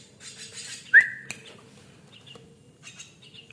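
A young white-eyed jalak kebo starling, still learning to fly, gives a few short, sharp calls close by, with one louder whistled note and scattered chirps over a low background hum.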